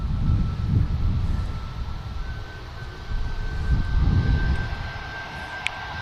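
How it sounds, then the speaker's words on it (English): A Ryanair airliner taxis toward runway 23 left for departure, its engines giving a steady, fairly loud whine and rumble that swells and fades slightly, with a thin high tone running through it. "Ryanair now is about to continue the taxi on to 23 left for departure"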